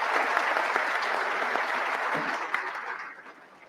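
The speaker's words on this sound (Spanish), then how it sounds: "fuertes los aplausos para la magíster Carolina Roca" An audience at a teachers' congress applauds a guest speaker with dense, sustained clapping that holds steady and then fades out near the end, with no voices on top.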